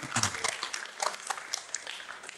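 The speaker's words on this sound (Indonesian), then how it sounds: "Tepuk tangannya." Audience applause at a Javanese karawitan gamelan performance gathering, a short burst of scattered, fairly faint clapping.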